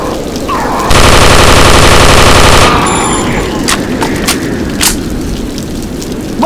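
Loud sustained burst of rapid gunfire in a video game lasting about two seconds, followed by scattered sharper shots and clatter in a quieter stretch.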